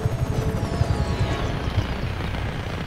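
Helicopter in the game Just Cause 3, a steady rotor thrum with rapid low chopping pulses, loud and close throughout with no talk over it.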